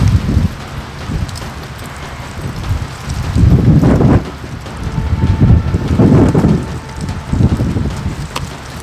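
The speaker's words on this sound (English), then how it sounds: "it's windy, it can be really windy" Strong wind on a French Alps mountainside buffets the microphone in loud, roaring gusts that swell and fade repeatedly over a constant rushing background.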